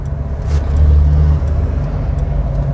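A car engine hums low and steady, swelling briefly as it picks up speed, then settling into a continuous road rumble.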